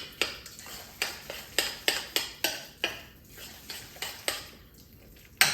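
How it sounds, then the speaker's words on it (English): A spoon stirring protein powder, almond butter and frozen blueberries in a bowl, rhythmic clinking scrapes repeating roughly twice a second, close and clear with no voices. "I'm just gonna go ahead and mix up the protein, the almond butter, and the frozen blueberries"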